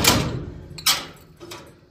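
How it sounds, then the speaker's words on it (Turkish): A house door is pulled shut, giving a sharp knock near the start, a firmer thud a moment later and a lighter clack as it settles, all close by in a quiet room. "Şöyle kapıyı örtüm."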